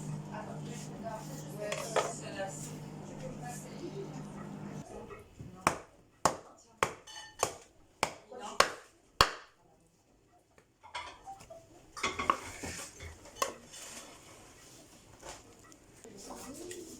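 Sharp, evenly spaced knife strikes cut dried meat from the bone side on a hard surface, about eight distinct chops in a row, preceded and followed by kitchen clatter and background noise.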